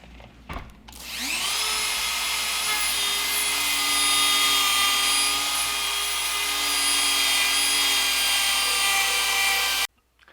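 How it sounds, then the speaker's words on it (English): A Dremel rotary tool grinds a knife fuller, spinning up to a loud, steady high-pitched whine that holds for about nine seconds at close range before cutting off abruptly. "using that Dremel tool just now to try to clean up that fuller was a mistake"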